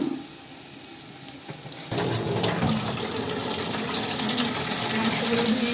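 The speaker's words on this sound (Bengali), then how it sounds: "মাংসগুলো ধুয়ে নিব" Chicken pieces for chicken biryani with potatoes being washed under a running tap, water gushing loudly and steadily into a sink after a quieter opening.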